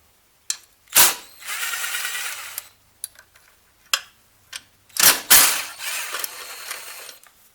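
10mm bolts being worked loose on the carburetor of a Lifan 2.5 hp engine: close ratchet clicking and metallic clinks, with bursts of rapid ratcheting separated by short pauses and a couple of sharp taps.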